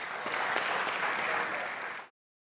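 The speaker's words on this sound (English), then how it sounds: "So we can welcome all our dignitaries with a big round of applause." Audience at an inaugural ceremony of a diabetes conference applauding to welcome dignitaries on the dais, a dense, even round of clapping that holds for about two seconds and then cuts off abruptly.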